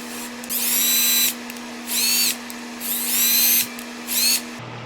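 A power drill spinning a Tomos Nitro 50 scooter engine valve whirs in four loud bursts, spinning up and stopping in a steady on-off rhythm over a constant low hum.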